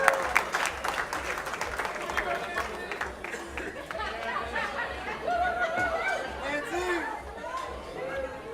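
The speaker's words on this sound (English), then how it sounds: "Let's give a big round of applause to them." Wedding guests clap for the groom and his mother on the dance floor, a lively burst of applause mixed with chatter, laughter and cheering voices from a close crowd.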